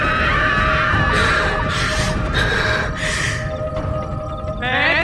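A woman's terrifying scream from a Hindi horror tale about a yakshini, rising in several loud, drawn-out shrieking bursts over a dense, dark background.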